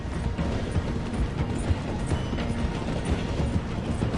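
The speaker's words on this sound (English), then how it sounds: "The train is slowing down to go through the station" A train rolling along tracks in a video game, slowing as it passes through a station: a steady mechanical rumble and rattle with faint clicking, continuous and fairly close, with no voices.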